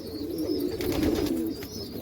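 Pigeons coo softly nearby in a short, continuous bubbling call, with a faint bird chirp in the background and nobody speaking.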